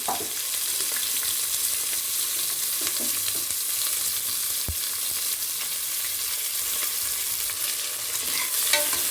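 Onions fry in a pan with curry leaves for a capsicum and potato gojju, a loud, continuous close sizzle with steady crackling and occasional stirring scrapes, without any talking.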